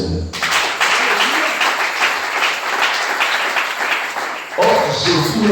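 A church congregation bursts into sustained applause for several seconds, dense and steady, then fades as a voice comes in at the end.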